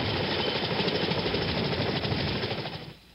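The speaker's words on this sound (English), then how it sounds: "Marines use smoke to signal helicopters they should land on the lawn behind the embassy walls" Helicopters landing on an embassy lawn during the evacuation of Saigon, a loud, dense rotor and engine roar that fills the whole stretch and fades out at the end, with no voices.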